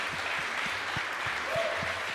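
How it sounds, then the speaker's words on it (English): A quiz show audience gives Team Blue a round of applause: steady, dense clapping that fills the whole moment at an even, moderate loudness with no voices over it. "Let's give them a round of applause"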